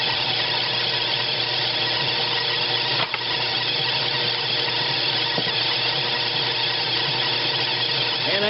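A spinning wire brush wheel cleans a rusty part, giving a steady, loud, continuous whine and squeal, with one brief dip near the middle.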